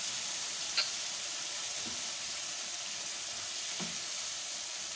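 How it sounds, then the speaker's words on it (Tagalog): Bitter gourd (ampalaya) sautéing in a pan at home gives a steady, even sizzle and hiss throughout, with a couple of faint soft clinks from stirring. "Ampalayang ginisa."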